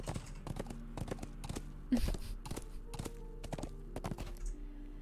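Horse hooves clip-clop in a steady rhythm as a character rides across the land in the online game LOTRO, with crisp, evenly spaced hoofbeats at moderate volume.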